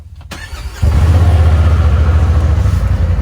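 Polaris RZR Pro 4 Ultimate Turbo UTV cold-started after sitting overnight at 23 degrees: a brief crank, then the engine catches and settles into a loud, steady, pulsing rumble close by.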